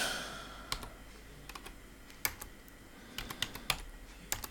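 Keys on a computer keyboard are tapped in quiet, irregular bursts of single strokes and short runs, close but soft over a low hiss.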